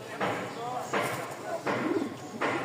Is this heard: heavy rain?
no